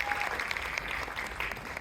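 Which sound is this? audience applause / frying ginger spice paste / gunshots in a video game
audience applause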